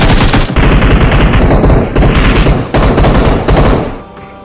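AK rifle gunfire in the mobile battle royale game PUBG Mobile: loud, dense automatic bursts with only brief gaps, close and dominant with no talking over them.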